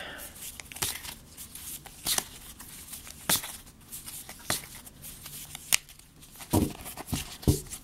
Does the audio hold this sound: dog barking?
no